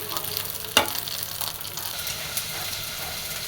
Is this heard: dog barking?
no